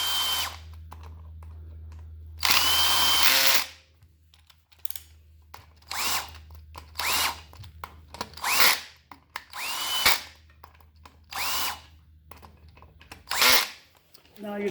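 A power drill running clutch cover bolts into a Yamaha WR250R motorcycle engine, whirring in a series of short repeated bursts with brief pauses between them, close and loud, over a low steady hum.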